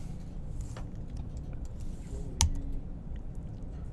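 Shortcut key presses on a computer keyboard while working in 3D software: a few scattered soft taps and one sharper click in the middle, faint and close against a quiet background.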